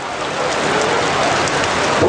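Heavy rain pours down steadily during an outdoor political rally at Kuala Sepetang, a loud, dense hiss of drops drumming on surfaces with no speech heard.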